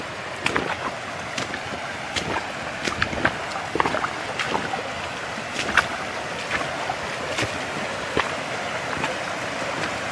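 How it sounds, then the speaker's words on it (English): A creek runs in a steady rushing wash of flowing water, with scattered bright splashes and trickles breaking the surface close by, continuous throughout with no talking. "we heard this creek running"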